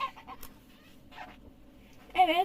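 A chick's small peeps and chirps come in short bursts, with a louder cluster of high chirping near the end, close by over a quiet background.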